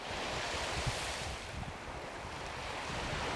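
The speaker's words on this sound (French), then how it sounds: "seul le bruit des vagues et du vent viennent perturber la quiétude des oiseaux" Ocean waves wash in continuously on the Breton coast while wind buffets the microphone, a broad roaring surf with no voices.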